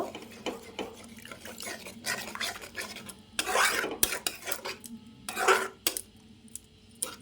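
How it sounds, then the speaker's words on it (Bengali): A spoon stirs dhaba-style egg curry in a pan after a little water goes in, with scraping and metallic clinks against the pan in short bursts, close and alone. "নাড়িয়ে চাড়িয়ে নিলাম"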